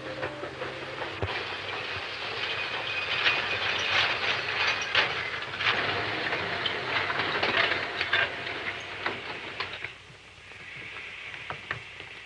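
A steam train rumbles steadily past with rhythmic clacking and hiss, fading slightly toward the end.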